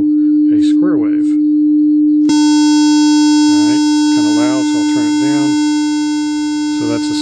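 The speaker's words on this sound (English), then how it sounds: "So now you're hearing the 300 Hz tone. Now this is a sine wave, and I can change it to a square wave." A steady 300 Hz sine tone hums from a speaker, then switches abruptly to a brighter, buzzy square wave, with someone talking over both.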